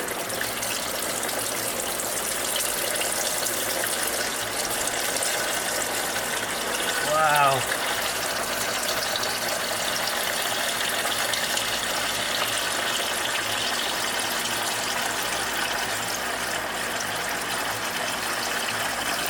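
Water gushes and splashes steadily out of a rusted 1972 Corvette engine block for the whole stretch, loud and continuous, with one brief exclaimed word partway through.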